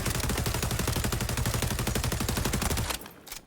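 Rapid sustained automatic gunfire from a weapon in the shooter video game XDefiant, loud and continuous for about three seconds before cutting off abruptly.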